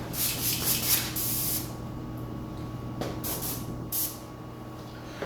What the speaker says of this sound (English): my airbrush is not spraying quite correctly